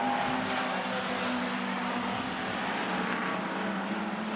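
A Ford Falcon race car is thrown hard into the corners at Rockhampton Speedway, its engine a loud, continuous roar that holds steady and rises slightly as it drives through the turn.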